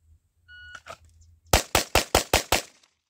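A Glock Gen5 pistol fitted with an Apex trigger kit fires six fast, evenly spaced shots, loud and close, right after a short electronic shot-timer beep.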